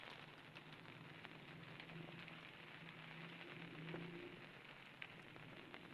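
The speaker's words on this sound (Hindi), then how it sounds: "और ये बारिश हो रही है" Steady rain falls throughout, a soft continuous hiss with scattered drop ticks, fairly close and even in loudness.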